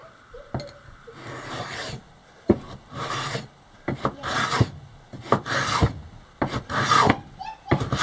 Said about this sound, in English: I can just do that with a hand planer.